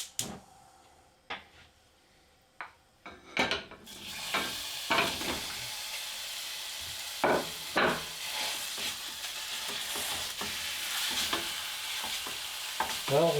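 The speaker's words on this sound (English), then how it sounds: "we're going to take our time and break the meat up" Ground meat sizzles in a pan for spaghetti meat sauce while a utensil repeatedly scrapes and knocks against the pan to break it up, close and continuous after a few sharp clanks at the start.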